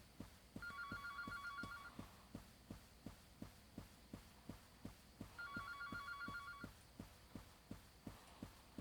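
Two bursts of an electronic telephone ring in the horror game Anthology of the Killer, each trilling for about a second and a half, set against a steady thumping heartbeat-like pulse that continues throughout; no speech.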